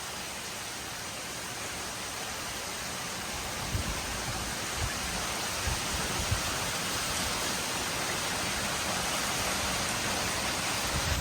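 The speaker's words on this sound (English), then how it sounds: "This has got to be like an inch in 20 minutes type of rain." Heavy, cold rain pours down steadily outdoors on a fishing outing, a dense, even roar of drops drumming on surfaces that fills the whole stretch without letup.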